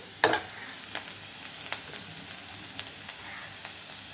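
Potatoes frying in a pan on low flame for a crispy aloo fry: a quiet steady sizzle with a sharp stir or scrape near the start and occasional soft spatula clicks, no talking.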